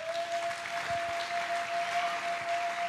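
A church congregation applauds during a sermon, a steady dense wash of clapping from many hands in a large room, continuous throughout with a faint sustained tone underneath.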